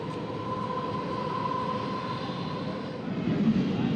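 Crowded suburban train pulling slowly out of Dombivli station near Mumbai, giving a low, steady rumble with a faint sustained electric whine and a slight rise in loudness toward the end.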